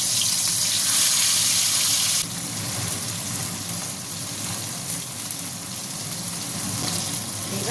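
Bata fish hiss and sizzle as they fry in smoking-hot mustard oil in a wok, a loud burst that settles into a steadier crackle.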